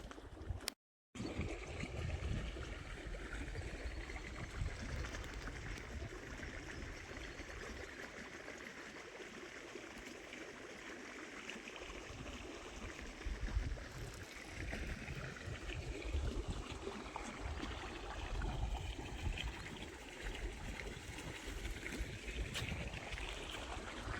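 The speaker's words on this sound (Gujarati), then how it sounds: "આપણે પાછું પાણી ચાલુ કરી દીધું છે કપ્પામાં ઉપર હાવ." Irrigation water flowing steadily across an open farm field, a continuous rushing and gurgling wash that stays fairly loud throughout, with no speech.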